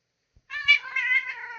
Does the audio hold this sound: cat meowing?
yes